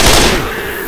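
Gunfire in the zombie shooter Left 4 Dead 2, a loud dense burst at the start that tails off quickly within a second, with no talk over it.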